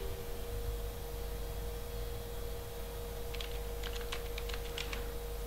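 Faint, quick clicks of a computer keyboard come in a short burst of typing Bangla text over a steady electrical hum, the rest quiet.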